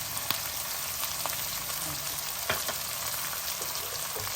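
Green chilli pieces and dried red chillies fry in oil in a pan for a gongura chana dal curry, giving a steady close sizzle with a few sharp crackles and pops and no talking.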